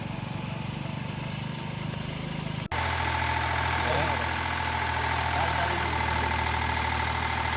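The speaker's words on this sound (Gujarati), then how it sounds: "ટ્રેક્ટર વાલ્યું જાય છે" A loud, steady tractor diesel engine rumble close by as it drives past, abruptly shifting in tone partway through and continuing with a heavy, chugging drone.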